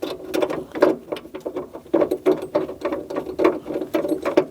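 A wrench ratchets as the battery hold-down nut is tightened on a Chevrolet Cruze, giving close, quick clicking strokes in short irregular bursts.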